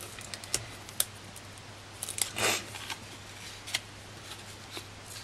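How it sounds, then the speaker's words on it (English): Backing paper is peeled off small foam adhesive dimensionals on a craft table: faint scattered ticks and light crinkles, then one brief, louder papery rip near the middle, close and quiet. "Let's peel the backs off those."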